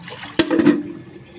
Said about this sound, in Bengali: শাকগুলো ভালো করে ধুয়ে নিই।